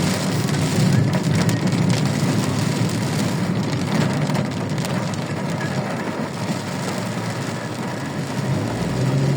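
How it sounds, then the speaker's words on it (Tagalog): Heavy rain in Bocaue pours down in a dense, unbroken roar, loud and close, with no voices. "ang lakas ng ulan talaga"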